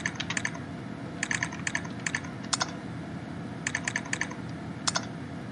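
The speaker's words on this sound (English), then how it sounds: "good to have the actual keyboard to type on." Clattering clusters of keystrokes on a computer keyboard, quick bursts of typing separated by short pauses, fairly close over a low background hum.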